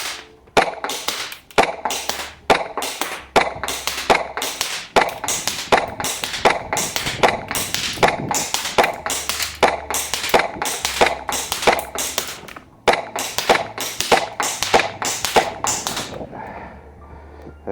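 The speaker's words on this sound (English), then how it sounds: "Now we're going to see if she can actually do a bit of target shooting for us." Rapid sharp reports from an Army Armament R18 rifle at target shooting, a long string of evenly spaced, loud shots near the listener with brief pauses, ending in a faint tail.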